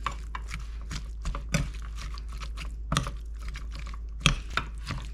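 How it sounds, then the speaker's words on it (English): Homemade tomato and tuna salad being mixed in a bowl, quiet clicking and soft wet taps from a utensil at an irregular pace, close but faint, with no talking. "now we're just gonna mix it all up"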